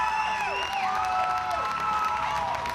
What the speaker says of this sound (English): The first fight of the card, the crowd goes wild for Pierre PATRY.